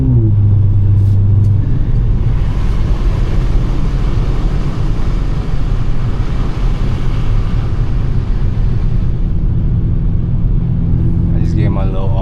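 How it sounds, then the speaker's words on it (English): 500hp Audi S4 all-wheel drive doing a burnout in snow, a loud sustained engine roar with spinning tyres that holds steady for several seconds before easing off, heard from inside the car. "I just gave my little all-wheel drive burnout"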